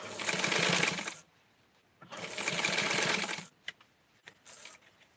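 A sewing machine stitches stretchy fabric for a Barbie doll dress in two loud, steady whirring runs separated by a pause, followed by a few small clicks and a brief final burst of stitching.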